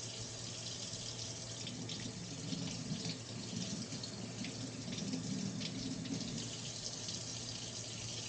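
Tap water runs steadily over raw chicken while it is rinsed in a kitchen sink, a soft continuous splashing hiss with no talk.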